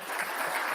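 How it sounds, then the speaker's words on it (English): A short burst of audience applause, dense and steady, clapping heard for under a second. "That was applause, gangster."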